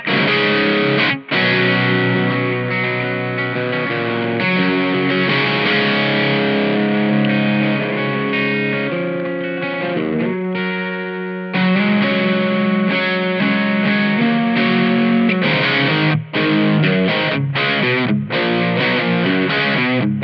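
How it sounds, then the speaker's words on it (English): An electric guitar played through a Senta OD overdrive effect on a Boss Katana MKII amp gives a loud, continuous distorted tone, with sustained chords and notes broken by a few brief cuts. "So this is a Senta OD."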